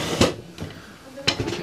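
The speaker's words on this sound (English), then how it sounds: "which open up with a sort of scrolling curved door" A boat's cupboard locker with a curved scrolling door being opened, giving a few short knocks and sliding rattles spaced apart, close by and fairly quiet.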